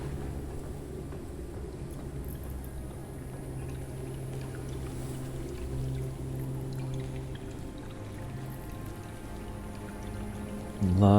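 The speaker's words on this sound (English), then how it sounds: "A lot of dripping goo" Dripping goo in the survival game Forever Skies gives a steady, wet, pouring and trickling wash, with a hum running beneath it and a brief louder burst at the very end.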